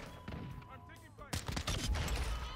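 P890 pistol shots in Call of Duty Modern Warfare II multiplayer, a few sharp close gunshot bursts with game sounds and a voice in the mix.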